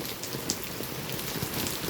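Rain falls steadily across Jamnagar city, a close, even patter of drops striking surfaces with a few sharper splashes standing out, and no one talks.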